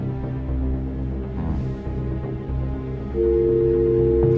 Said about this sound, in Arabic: رن.